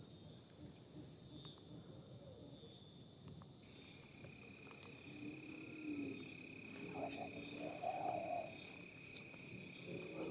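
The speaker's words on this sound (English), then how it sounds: "Sounds like he might have a little bit of an owl infestation in them woods." Night woods on Missouri public land during a hunt: soft, distant owl hoots rise through a steady chorus of crickets and insects, faint and far off with no talking.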